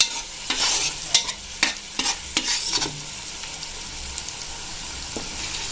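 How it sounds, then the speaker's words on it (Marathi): Onion and chilli sizzle in a hot pot while a utensil scrapes and stirs in short bursts, close and fairly loud, with no voices. "आता मी इथे पातेल्यामध्ये छान प्रकारे आता कांदा फ्राय व्हायला टाकलेला आहे"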